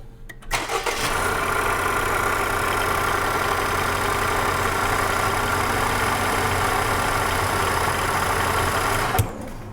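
A car engine starts and then idles steadily, with an even mid-to-low running hum that holds at a constant level for about nine seconds and ends with a brief louder blip.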